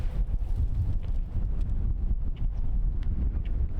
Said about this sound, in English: Wind is like right in my face